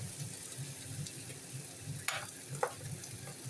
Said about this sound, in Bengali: মশরুমটা একটু ভালো করে ভাইজে নেব